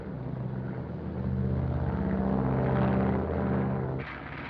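Propeller airplane flying overhead, a steady droning rumble with harmonic hum that swells toward the middle and cuts off abruptly near the end, no voices.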